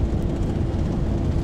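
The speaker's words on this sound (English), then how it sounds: "let's try to get this aircraft off the ground" An Embraer KC-390 military transport in the X-Plane flight simulator roars steadily at takeoff power, a dense continuous low engine rumble filling the clip with no voices.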